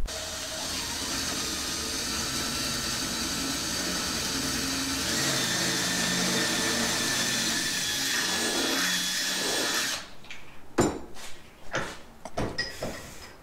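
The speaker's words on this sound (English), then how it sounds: "we got to drill it out a little bit so it does" A power drill whines continuously for about ten seconds as it bores out a battery cable spade terminal, then stops, followed by a few sharp clicks and handling knocks.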